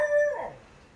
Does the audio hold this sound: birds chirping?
no